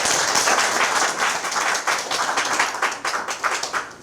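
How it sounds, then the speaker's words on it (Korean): Audience clapping at the founding ceremony of a freedom and fairness forum in Korea, dense applause from a seated crowd that holds steady then thins into scattered claps, with no voice over it. "박수를 맞아주십시오"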